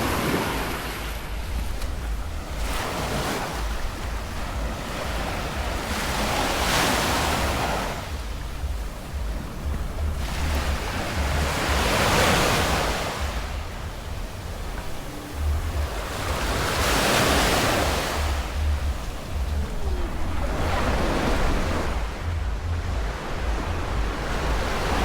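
Sea waves roll in and wash up on a shore in Albania around New Year's Eve, each surge swelling and fading in a steady rhythm of roughly five-second cycles, loud and close with wind rumbling across the microphone.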